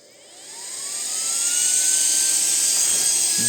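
A battery-powered electric motor on a speed regulator spins up to about 22,000 rpm, a rising high-pitched whine that builds over the first second and a half, then holds steady and loud, alone with no talk.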